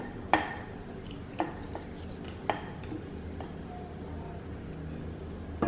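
A utensil scraping melted chocolate into cake batter in a mixing bowl, quiet with a few sharp clinks and taps against the bowl spaced across the moment, plus faint scraping in between.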